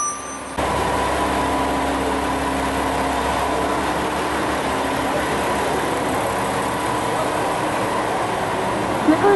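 A KiHa 47 diesel railcar idles at a station on the San'in Main Line with a steady, low rumble and hum, continuous and fairly close, with some faint background voices.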